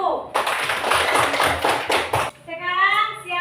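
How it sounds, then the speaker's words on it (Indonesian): A classroom of students claps their hands for a student group, a dense burst of overlapping claps lasting about two seconds before it stops and a voice follows. "Kita kasih tepuk tangan untuk kelompok 1."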